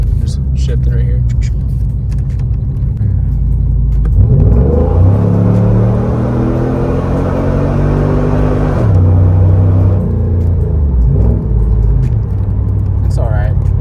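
A car with a rebuilt heavy-duty 406 engine makes a hard acceleration pull. The engine roars up in rising pitch, drops sharply at a gear shift, then climbs again, loud and close throughout.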